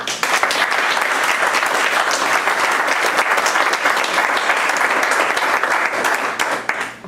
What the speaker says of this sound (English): would you kindly applaud my friend Richard